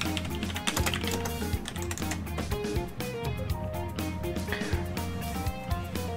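Steady stream of computer keyboard keystrokes at a gaming setup, a busy patter of clicks with brief pauses, close and moderately loud, no talking heard.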